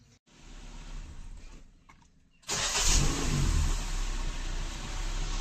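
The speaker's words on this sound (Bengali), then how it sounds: "তো ফাইনালি গাড়িটা স্টার্ট করছম আর কি।" A Maruti Swift top model car engine cranks and starts after a quiet stretch, catching midway and settling into a loud, steady close-up idle with some revving through the rest.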